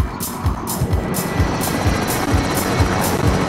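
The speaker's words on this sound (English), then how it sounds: "You should take that chopper down, Pete, so we can use it." Helicopter in the Blood Money shooter game, a steady loud thudding rotor beat with rhythmic chops over engine roar, close by, with no talking.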